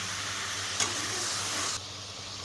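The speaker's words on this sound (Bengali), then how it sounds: "অল্প করে নাড়তে থাকবেন" Vegetables sizzling in oil in a pan over medium heat for a vegetarian navaratna korma, with a steady close frying hiss and a short scrape of stirring, with no talking.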